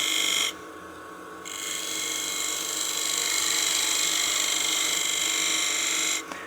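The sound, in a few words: 3/8 spindle gouge cutting sycamore on a wood lathe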